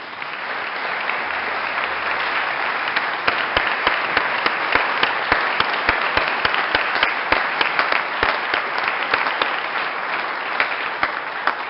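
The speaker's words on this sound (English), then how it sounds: "join me again in giving them a warm, warm applause" Steady applause from an audience fills a state Senate chamber on opening day, with dense clapping throughout and sharper individual claps standing out from the wash in the later seconds.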